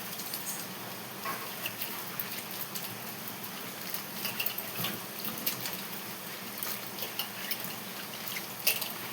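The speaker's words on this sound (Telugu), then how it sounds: "కాలీఫ్లవర్ ఎప్పుడు కూడా శుభ్రంగా ఉప్పు వేసి వేడి నీళ్ళు వేస్తా బాగుంటుంది, కానీ ఉప్పు వేసి కడుగుతున్నాను నేను" Cauliflower is washed in salted water, with continuous splashing and dripping and scattered small splashes and knocks over the whole stretch, fairly faint and with no talking.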